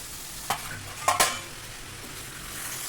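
Washed chicken pieces go into a pan of fried masala for a green chicken curry and get stirred, with a few sharp clanks and scrapes of the utensil over a soft, steady sizzle and no talking.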